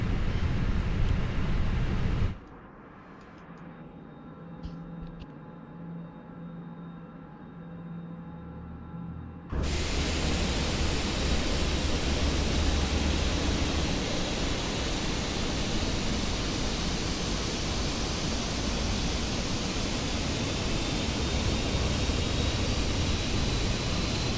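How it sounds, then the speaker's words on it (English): An Airbus A320 engine spools up in Microsoft Flight Simulator 2024: after a quieter cabin stretch, a broad, steady roar rises abruptly and holds loud and constant, with a faint rising whine above it. "And starting the engine number"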